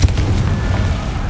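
A Confringo explosive spell goes off in Hogwarts Legacy with a sharp blast at the very start, followed by a sustained, loud rumbling roar that carries through the rest of the moment.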